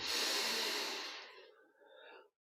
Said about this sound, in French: Une grande inspire